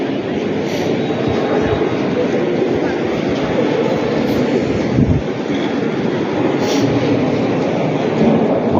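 Steady loud rumble and rattle of a moving train in Saint Petersburg, Russia, heard from inside a carriage, continuous with small clunks and murmured voices underneath.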